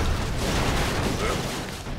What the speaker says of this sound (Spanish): Sí, porque ocurren explosiones aleatorias.